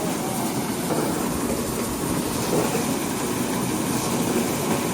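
A grain elevator runs steadily at a wheat market in Amloh mandi during harvest season, a continuous loud mechanical rumble and rattle of wheat being conveyed, sustained without pause and with no talk.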